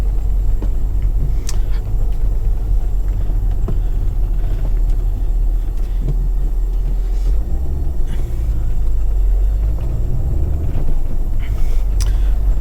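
A 2000 Fiat Coupé 2.0 20v Turbo Plus with six-speed gearbox, heard from inside while driving: a steady, loud low engine rumble and road drone, with faint ticks and a brief swell near the end.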